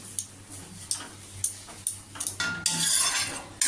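A metal spoon taps and clinks against a cooking pot in a regular rhythm of sharp, close knocks while potato bati chorchori cooks, ending with a longer scraping clatter.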